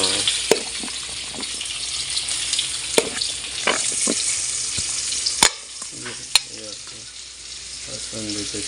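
Garlic sizzles steadily in a hot pan, broken by sharp scraping clicks as it is stirred, with a brief quieter spell near the end and a voice murmuring faintly in the background.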